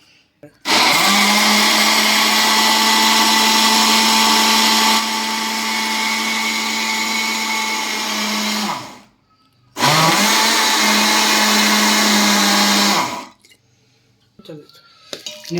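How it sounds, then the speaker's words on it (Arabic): An electric blender runs at full power blending lentil soup ingredients with cumin, chili and salt, a loud steady whirring roar for about eight seconds, a brief stop, then a second burst of about four seconds. "كل ده في الخلاط."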